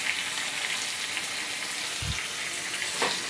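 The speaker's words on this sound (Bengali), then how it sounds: "তো আমি এখন চিকেনগুলো দিয়ে দিচ্ছি।" Chicken pieces fry in hot oil with cumin and ginger paste, probably over a wood-fired clay stove. A loud, steady, hissing sizzle runs throughout, with a soft thud and a brief stir scrape. There is no talk.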